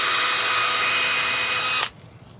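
Power drill boring into cedar wood, one loud, steady high whine lasting nearly two seconds before cutting off abruptly.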